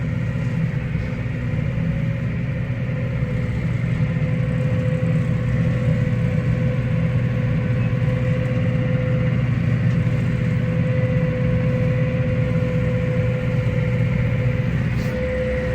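A tractor engine runs steadily while mowing a roughly ten-acre field at about 2.6 mph, a constant loud low drone with a fixed whine held throughout, with no talking.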